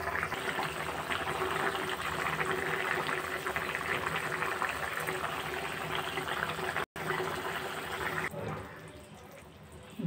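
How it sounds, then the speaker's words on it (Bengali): Water bubbles and simmers steadily in a pot of vegetarian potato curry, a soft, continuous churning close by that cuts off abruptly near the end, with no talking. "জল দিয়ে দিয়েছি, ফুটেও গেছে।"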